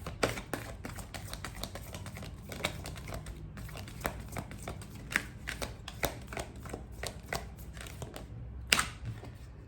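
Tarot cards being shuffled and drawn during a candle wax reading: a quick run of crisp papery flicks and soft slaps, close and fairly quiet, with brief pauses between bursts and no talking.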